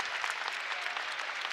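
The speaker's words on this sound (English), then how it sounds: "Nice round of applause for Smith as he heads to the sideline." Steady applause from the crowd at a Class 2 state tournament high school basketball game between South Pemiscot and Salisbury, a player leaving for the sideline late in the game; dense, even clapping at moderate distance with no talk over it.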